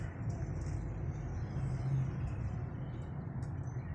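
Rush hour traffic on Del Monte Avenue rolls past as a steady low rumble of cars, buses and trucks, with a faint hiss of air brakes and no voices.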